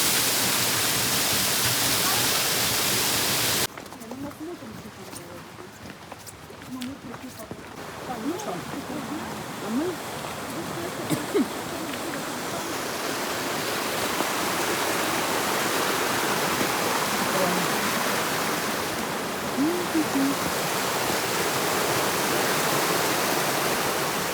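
The Zhenetskyi Huk waterfall in winter roars continuously as a broad, even rush of falling water, with a voice speaking briefly over it.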